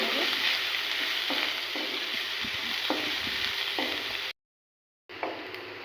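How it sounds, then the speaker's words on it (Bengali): Onions sizzle and hiss steadily in a hot pan, with faint stirring scrapes now and then. Partway through, the sound drops to silence for about a second, then the frying resumes. "পেঁয়াজটাকে খুব ভালো করে ভেজে নেব।"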